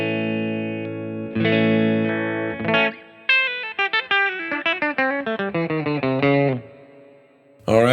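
Clean electric guitar through a Grammatico GSG amp model on a Line 6 POD GO: a held chord rings out, followed by a run of plucked single notes and chords with a lush, slightly chorused sheen, close and clear.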